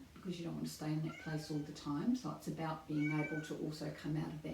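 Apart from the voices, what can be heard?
cat meowing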